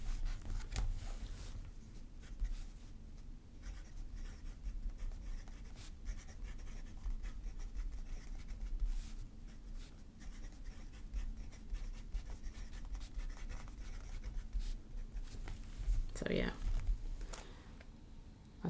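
A broad-nib fountain pen, a mini Sankakusen, scratches softly across paper in short repeated strokes, faint and close, with a voice talking over it throughout.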